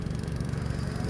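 A steady, unbroken engine drone from a motor boat cruising on a lake at Ambattukadavu during the water lily bloom, heard alone with no voices.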